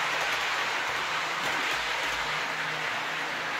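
A Hornby OO gauge Eurostar model train set rumbles steadily along its track with a continuous whirring, rattling noise, close and fairly even throughout.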